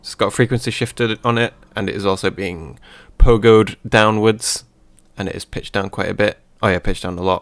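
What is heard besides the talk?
No distinct noise like a dog, phone or traffic.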